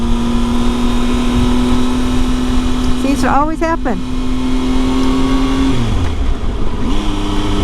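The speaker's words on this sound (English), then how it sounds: "There's the car." A car passing on Highway 2 at Stevens Pass, heard from a riding motorcycle as a brief rising and falling whoosh over constant engine and wind drone, with a rider talking throughout.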